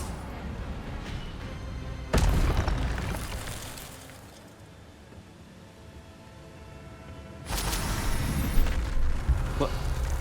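Hogwarts Legacy's Incendio fire spell goes off in two sudden, loud whooshing bursts, the first fading away slowly and the second arriving several seconds later and holding on.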